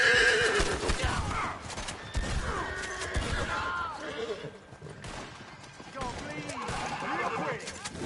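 Horse neighs and whinnies repeatedly in the video game Red Dead Online, mixed with hoof clip-clop and crashing effects, while people talk over the commotion.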